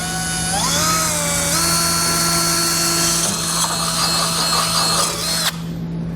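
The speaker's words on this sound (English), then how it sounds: "we're going to go through our base plate and drill out the back of the frame rail" A power drill bores through a steel base plate into a 2015 Chevrolet's frame rail, running as one loud, steady whine with its pitch rising and shifting as the bit bites, then cutting off sharply.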